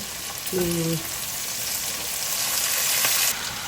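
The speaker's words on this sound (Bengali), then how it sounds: "পেঁয়াজটা মরিচটা খুব ভালো করে ভাজা হয়ে গেছে" Onion and chili frying in oil in a pan, a steady hiss of sizzling throughout with a brief tonal sound near the start.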